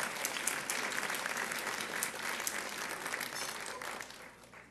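Audience applauding at the 2010 Wriston Lecture, a Manhattan Institute event, with a steady wash of claps that holds for several seconds and then thins out toward the end.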